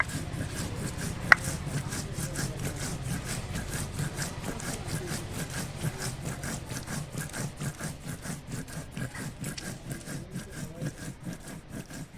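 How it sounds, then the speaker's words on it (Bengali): Whole cumin seeds and dried red chillies are ground into a spice paste with steady, rhythmic back-and-forth rubbing strokes, close and continuous throughout. "এগুলো আগে বেটে নেই"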